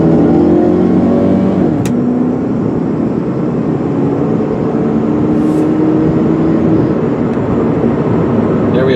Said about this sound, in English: I'm going to step on the gas pretty hard so you can hear how she shifts.